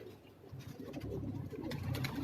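Soft, low pigeon cooing repeats over a steady background hiss, fairly close and moderately quiet, with no voices, heard on a rooftop in Karachi.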